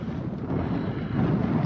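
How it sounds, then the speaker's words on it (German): Wind gusts over a lake and buffets an unshielded microphone with a dense, low, rumbling roar that holds steady and close throughout the short stretch. "Und der Wind pfeift gut um die Ohren."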